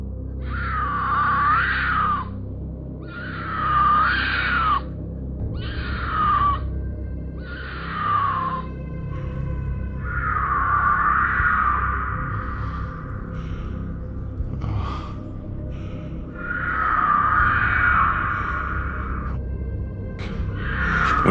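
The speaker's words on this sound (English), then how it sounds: "When you isolate the scream itself, it carries a sharp guttural quality, more animal than human." An unknown creature in a storm drain tunnel lets out a series of long, wavering screams, each lasting a second or two with short gaps between them, echoing over a constant low rumble.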